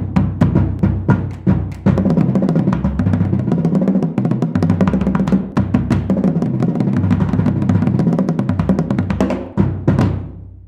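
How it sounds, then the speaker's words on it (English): Marching bass drums played in a rapid, pounding sequence of deep booming hits at varying pitches, loud and close, with a final ringing accent at the end. "These are marching bass drums."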